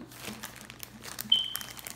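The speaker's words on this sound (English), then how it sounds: "tear open the bag. So we got to tear it open." A plastic toy packaging bag is torn open up close, giving soft, quiet crinkling and crackling with a brief sharper rip partway through.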